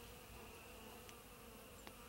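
Faint, steady buzzing of honey bees close by in February, a soft insect hum with a few brief louder passes.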